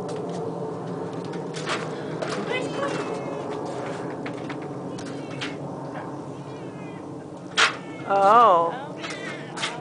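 A cat meows several times during a rescue, with a louder drawn-out wavering meow near the end over ongoing background noise, while people talk nearby in Dutch.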